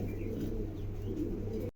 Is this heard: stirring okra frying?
no